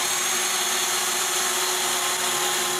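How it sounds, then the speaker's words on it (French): A power drill boring holes into the wooden frame of a homemade bandsaw, a steady high whine that stays close and constant for the few seconds it runs, with no voices. "je peux percer les 2 autres trous."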